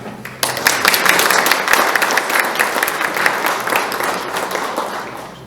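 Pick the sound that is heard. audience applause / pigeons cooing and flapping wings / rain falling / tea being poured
audience applause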